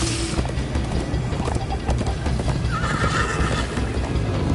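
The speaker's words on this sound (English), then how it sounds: "First time on a horse here." A horse gallops with rapid clip-clop hoofbeats and whinnies in Minecraft: Story Mode, loud and close over a dense game soundtrack, with no talking.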